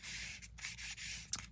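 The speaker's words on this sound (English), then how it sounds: "sand back to the craft" Sandpaper rubbing over foil-covered kraft paper in short back-and-forth strokes, a close, hissy scratching with brief pauses between passes.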